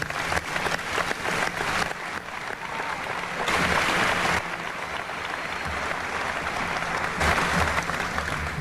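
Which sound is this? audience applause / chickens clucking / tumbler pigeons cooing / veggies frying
audience applause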